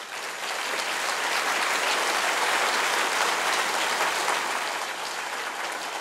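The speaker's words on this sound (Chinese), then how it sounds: "请大家给他们掌声鼓励一下好不好？" Steady audience applause at a county year-end address in Chiayi, dense even clapping sustained for several seconds with no talk over it.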